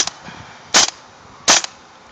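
An airsoft M4 rifle fires semi-automatic: three sharp, close cracks spaced roughly evenly, each followed by a brief mechanical rattle, with no voices.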